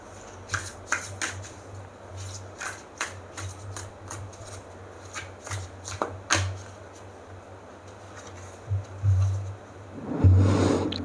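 Guidance cards being shuffled by hand in a repeated riffling, flicking rhythm with short bursts, close by, with a low steady hum underneath.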